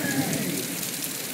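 Hurricane rain falling steadily outdoors, a dense, even hiss of heavy downpour heard close for a brief moment with no voices over it.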